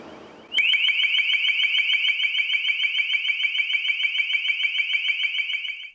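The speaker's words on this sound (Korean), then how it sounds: "듣기 불편할 정도의 커다란 기계음이 실내를 꽉 채웠다" A high-power directional sound transmitter tested indoors: after a brief soft rustle, a very loud, piercing mechanical tone starts suddenly and pulses rapidly and steadily like an alarm for about five seconds, then stops, with no talk.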